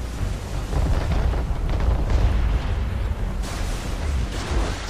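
Sustained booming cannon fire from a sailing warship in Assassin's Creed 3 during a naval mission in the Virgin Islands, loud rumbling blasts rolling continuously with heavy low-end across the whole stretch.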